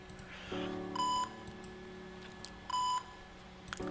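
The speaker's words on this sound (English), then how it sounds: "that beeping sound effect" Electronic beeps from a video game, Ben Jordan 5, sound twice in quick pairs over a steady low tone, clean and synthetic, with no voices.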